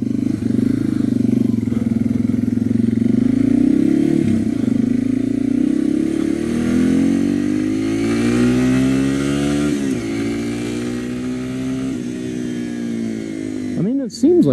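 A Yamaha TW200 motorcycle engine drones and rises in pitch as it accelerates through several gear changes, steady and close with wind noise, ending in a quick rev near the end.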